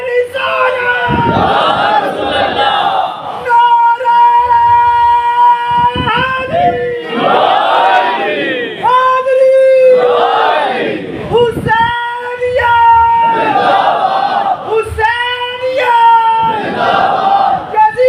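A large crowd at a religious gathering with a cleric in Lahore chants slogans in loud, repeated call-and-response waves, with a lead voice calling out and many voices roaring back several times.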